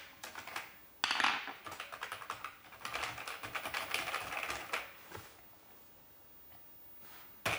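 Typing on an Amstrad CPC 6128 computer keyboard: close, busy bursts of plastic key clicks and clatter, with a louder keystroke or two and a brief quieter pause near the end.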